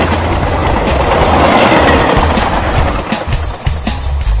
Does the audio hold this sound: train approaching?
yes